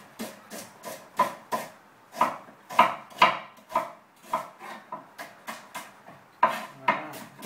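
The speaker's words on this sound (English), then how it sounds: "I'm just going to chop against the grain so we get nice even lines." An onion being sliced against the grain with a knife on a cutting board: a steady series of crisp, evenly spaced chops, close and distinct, with no talking.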